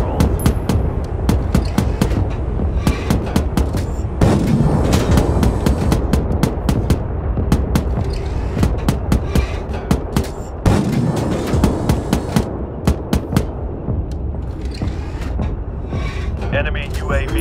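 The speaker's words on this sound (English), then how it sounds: "our artillery is commencing fire" Repeated sharp booms of artillery fire in the video game World War 3, a rapid, loud barrage with irregular bursts running throughout, heard during a tank multiplayer match.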